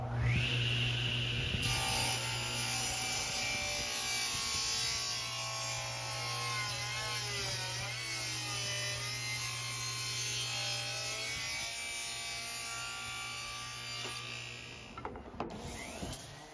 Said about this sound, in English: the tapering jig has a piece of wood that fits into the groove on my table saw attached to the bottom of it